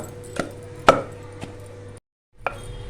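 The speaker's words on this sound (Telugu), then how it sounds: "కొట్టు గోంగూర" Gongura leaves being pounded in a stone mortar for a chutney, giving four sharp, close thuds spread over about three seconds, with a brief silent gap before the last strike.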